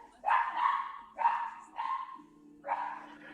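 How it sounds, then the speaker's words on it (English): A dog barks at home, four separate barks spaced unevenly over a few seconds, fairly close and clear, with a faint low hum underneath. "Dog is barking."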